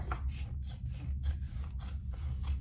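Scissors snipping through a sheet of cork, about nine crisp rasping cuts in an even rhythm over a steady low hum, close and moderately loud.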